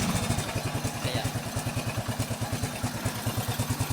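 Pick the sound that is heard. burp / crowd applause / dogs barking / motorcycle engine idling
motorcycle engine idling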